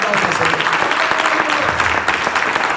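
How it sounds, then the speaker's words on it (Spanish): Loud, steady applause from a church congregation, dense clapping filling the whole stretch without a break. "Denle fuerte esa aplauso, Señor."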